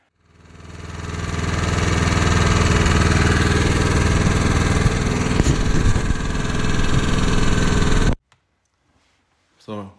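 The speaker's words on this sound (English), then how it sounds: "So here I am doing some easy snow blowing." A Yamaha YT660 snowblower engine revs up and runs loudly and steadily while clearing light snow about 5 centimeters deep, then cuts out abruptly near the end, followed by a brief faint knock.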